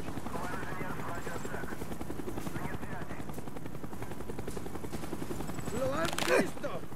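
Helicopter in Call of Duty: Black Ops, a steady rotor chop running throughout beneath game dialogue, with a few sharp gunfire-like bursts near the end.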